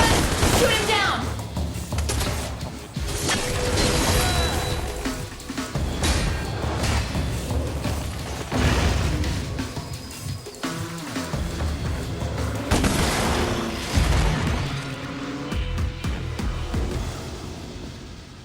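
Rapid bursts of gunfire and booming blasts from DmC Devil May Cry gameplay fill the scene loudly, mixed with whooshes, game voices and talk throughout.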